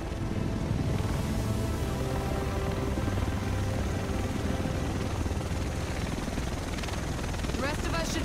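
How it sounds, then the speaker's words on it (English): Helicopter arriving in the video game Tom Clancy's The Division, set in Manhattan: a loud, steady rotor drone with constant wind-like rush fills the whole clip, with voices talking over it. "The rest of us should be in this chopper."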